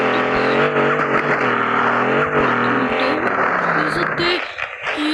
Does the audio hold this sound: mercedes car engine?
yes